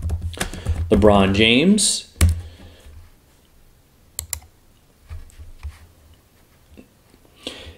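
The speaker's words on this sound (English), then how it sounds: "So here we go with our first test. So we're going to type in" A few sparse computer keyboard keystrokes and clicks as a search query is typed, coming after a short stretch of speech and spread out with quiet gaps between them.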